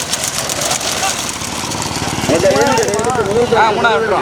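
Several motorcycle engines idle and sputter together at close range while a person speaks over the noise.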